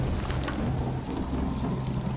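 Steady rain pours in the video game The Picture in The House, a dense, even hiss with a low rumble beneath, no talk.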